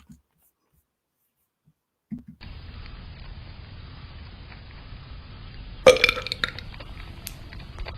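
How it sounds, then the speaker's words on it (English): A loud, drawn-out burp from a man starts about two seconds in, a long rumbling belch that swells to a louder peak near the end, heard alone with no talk over it. "I think I just have to end it with the famous beaver burp."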